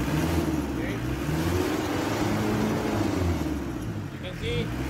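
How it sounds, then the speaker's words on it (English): A 4D56 diesel engine, with its fuel injection pump being adjusted for a white smoke problem, runs loud and close, its deep rumble rising as it is revved and holding high. "I'm going to rev this engine up and let's see if it's going to smoke."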